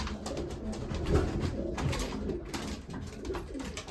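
Racing pigeons, including Gebr. Janssen birds, coo in soft, repeated low murmurs close by, overlapping one another against a faint background hiss.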